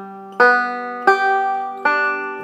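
A banjo plays a square roll picking pattern slowly and evenly, with four clear plucked notes ringing close and clean in sequence, each bright attack left to sustain alone.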